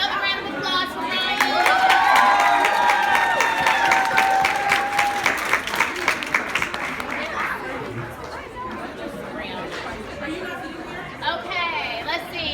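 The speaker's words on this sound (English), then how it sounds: "Another round of applause for Ryan." An audience at a STEM house cafe performance event applauds a performer, a steady swell of clapping that fades into crowd chatter, with a whistle early on and voices talking throughout.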